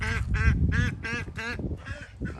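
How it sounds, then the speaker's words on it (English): Broody mother duck sitting on eggs on a chilly morning, giving a run of five close, loud, raspy quacks in steady rhythm, then a couple of softer calls. "What you doing, Mama Duck? Are you sitting on some eggs?"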